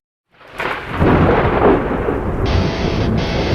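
A thunder sound effect opens a sports radio show intro, a loud rolling rumble swelling from silence and sustaining with rain-like hiss, joined by a steady high tone near the end.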